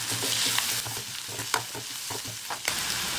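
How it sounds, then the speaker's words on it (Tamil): Onions with coriander leaves, salt and turmeric sautéing in a pan for egg podimas: a steady close sizzle broken by frequent sharp spatula scrapes and taps, with no talking. "கொத்தமல்லி இப்போ நல்லா வதக்கலாம்."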